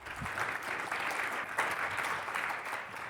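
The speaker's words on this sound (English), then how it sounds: "A round of applause." An audience applauds at the close of a speech in an Oxford-style debate, with sustained, dense clapping from a full room at an even level throughout.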